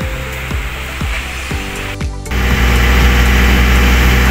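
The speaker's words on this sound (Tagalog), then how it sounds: "gumagana na yung ating generator" A portable generator installed with a manual transfer switch starts up: a few sharp knocks and a brief catch give way to a steady, loud engine drone that runs on alone to the end.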